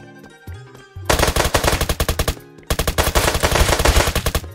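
Light machine gun fire in the Roblox game Apocalypse Rising 2, two long rapid bursts of sharp, evenly spaced shots after a quiet opening, loud and close with no talking.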